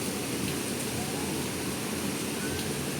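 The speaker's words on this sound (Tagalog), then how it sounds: "Bakit umuulan?" Heavy rain pours down steadily in Hong Kong, a dense, loud, unbroken wash of noise close by with no pauses.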